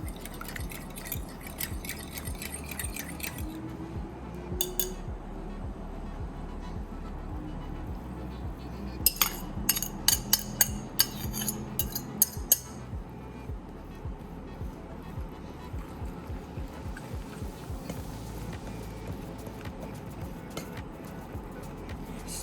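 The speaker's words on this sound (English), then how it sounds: "So now we're gonna put the wet with the wet and give it a beating." Wet pie ingredients for a homemade cherry pie beaten together with a fork in a bowl, a soft, fairly steady scraping and tapping with a short burst of sharper clinks partway through, close by.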